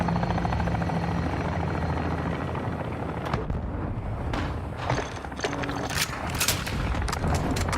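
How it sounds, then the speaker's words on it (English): A cargo helicopter in the Call of Duty Warzone battle royale game, a steady rotor drone with booming and scattered gunfire-like bursts layered over it, loud and continuous. "Cargo helo is inbound"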